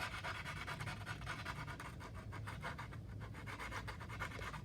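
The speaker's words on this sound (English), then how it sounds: "this is just a sanding stick, and I'm just gonna sand" A sanding stick rubs steadily over a jagged plastic part of a 1/32 scale B-24 model airplane, making a quick, even back-and-forth rasp that is close and fairly quiet.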